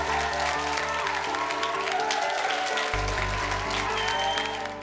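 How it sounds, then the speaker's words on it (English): A massive round of applause at a beauty pageant, loud sustained clapping from a crowd over steady background music that shifts partway through, with faint cheering mixed in. "Can we please have a massive round of applause for"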